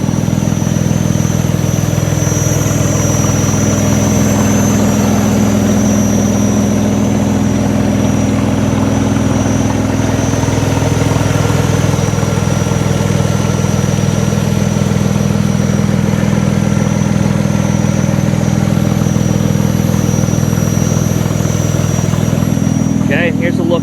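A 2003 Saturn Vue AWD's 3.0-liter V6 engine idles steadily throughout, a smooth continuous low rumble with faint high whine, recorded close up with no talking.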